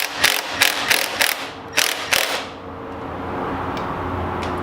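Hand ratchet working a bolt loose on a Honda Grom motorcycle rear set, five or six quick clicking strokes close up, then a quieter pause.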